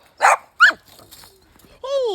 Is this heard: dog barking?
yes